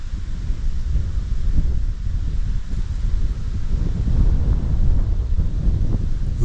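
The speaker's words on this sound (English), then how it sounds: "A little breezy" Steady wind gusts buffet the microphone on a mountain trail in the Foothills Trail area near Table Rock State Park, a continuous low roar that swells and eases with no voices.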